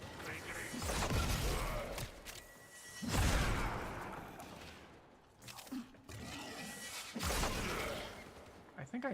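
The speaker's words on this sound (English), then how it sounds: "I think I knocked myself over with my own explosion." Explosions in the Warframe video game, several heavy booming blasts with rumbling low end and whooshing tails, separated by quieter stretches of game noise.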